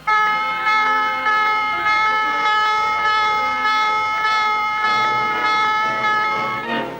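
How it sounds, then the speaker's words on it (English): A loud electronic navy general quarters alarm tone on a warship pulses over and over at a steady, insistent rhythm, with no voices. "the calm of the day is broken as general quarters sound"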